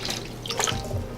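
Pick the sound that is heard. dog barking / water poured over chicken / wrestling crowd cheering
water poured over chicken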